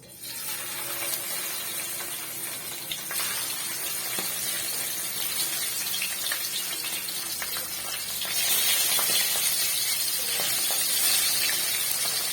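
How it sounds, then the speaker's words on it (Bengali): Fish coated in salt and turmeric frying in hot mustard oil for a Bengali cauliflower fish curry, a steady hissing sizzle throughout that swells louder near the end, with faint clinks of utensils. "এখন তেলটাও গরম হয়ে গেছে, তো মাছগুলোকে আমি ভেজে নেব"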